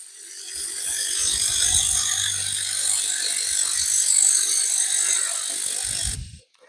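A 200 W pulsed laser cleaning machine working on metal gives a loud, close, steady high-pitched crackling buzz with faint low thumps, then cuts off abruptly near the end.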